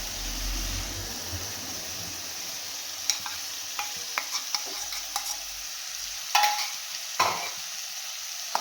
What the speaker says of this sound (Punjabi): ਇਹਨੂੰ ਹਲਕਾ ਹਲਕਾ ਹਿਲਾਵਾਂਗੇ